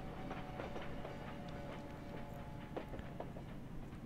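Faint, steady rumble of a train at a Paris railway depot in Valiant Hearts, with soft scattered clicks and clacks over a continuous low drone, no talking.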